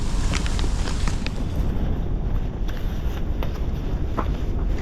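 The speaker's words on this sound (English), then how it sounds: "It is so windy out here." Strong wind gusts roar steadily across a frozen lake during a December ice-fishing outing at Antero, a loud, continuous broadband rush with no talking.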